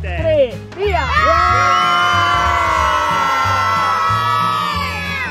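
A group of children at a mountain bike lesson let out a loud sustained collective shout and cheer after a countdown, the whooping voices close and overlapping, briefly preceded by an adult voice.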